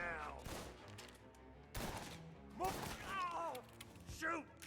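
Gunfire in Mafia: Definitive Edition comes as a few sharp, separated bursts spread over several seconds, fairly quiet overall and mixed with voices speaking between and over the shots.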